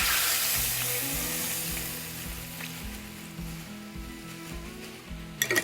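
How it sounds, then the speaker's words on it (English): Veggie broth hitting a hot pan to deglaze it, a loud rushing sizzle that slowly eases, with a spurtle scraping around the bottom and a few sharp clacks at the end. "Now we're just going to deglaze, just going to run that spurtle around the bottom of the pan"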